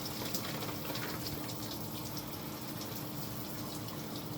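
Shower water runs in a steady, fairly quiet stream, a continuous splashing hiss with no speech over it.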